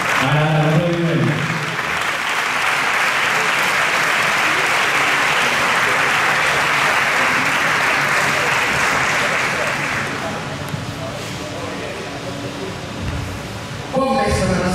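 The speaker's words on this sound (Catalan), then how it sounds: "Ara, aplaudiment." Sustained, dense audience applause fills a hall at a civic proclamation ceremony for the pubilles and hereus of Navàs, steady and loud for about ten seconds before tapering off, with a voice briefly at each end.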